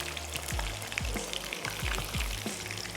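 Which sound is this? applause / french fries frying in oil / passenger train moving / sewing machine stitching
french fries frying in oil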